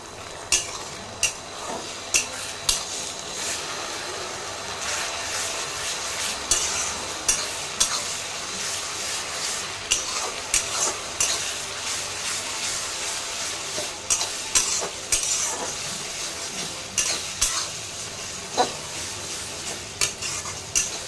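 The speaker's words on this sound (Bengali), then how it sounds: "2 চামচ মতো দিয়ে দিলাম আদা রসুনের পেস্ট।" Ginger garlic paste fries in a pan for a village-style chicken curry, a constant sizzle broken by regular scraping clinks of a spoon stirring against the metal, close and fairly loud, with no voices.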